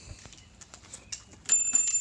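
Small bell rung repeatedly at a garage sale, with a bright ringing that starts near the end and sustains after soft scattered clicks and taps.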